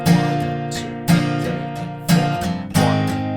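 An acoustic guitar strums the chorus in four strong, evenly spaced down-strokes, each ringing out before the next, played alone and close.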